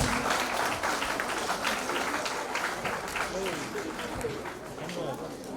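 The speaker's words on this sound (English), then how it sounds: "A big round of applause, please." An audience at an International Women's Day event applauds, a broad wash of clapping that is loud at first and slowly fades, with voices talking through it.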